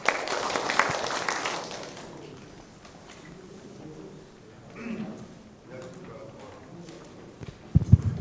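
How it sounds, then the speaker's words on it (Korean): A seminar audience at an industrial safety event claps briefly for an incoming presenter. The applause is fairly loud at the start and dies away after about two seconds, followed by quiet room noise and faint shuffling. "박수로 맞이해 주시기 바랍니다."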